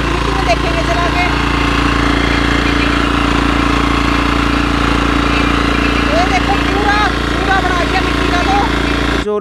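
Diesel power tiller fitted with a Kama gearbox, running in third gear in soil with a loud, steady, close engine thrum throughout, while people talk over it.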